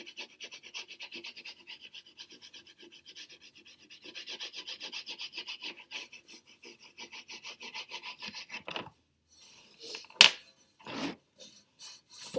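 Crayon rubbing across paper while drawing a landscape, pressed harder to darken the horizon line: steady close raspy scratching strokes in a regular rhythm, then a pause followed by a few louder separate scrapes and taps near the end.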